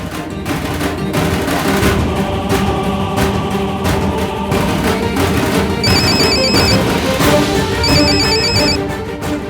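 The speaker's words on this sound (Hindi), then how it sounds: "और अब उसका फोन बजेगा" A phone rings in a tense scene from a Hindi TV serial, its bright trilling tone coming in two short repeated bursts over loud, dense dramatic background music.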